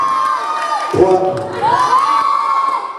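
Loud cheering from a talent-contest crowd at a hypnosis show in Wavrin, with many shrill young voices yelling together to pick a volunteer, and a sudden burst of shouting partway through.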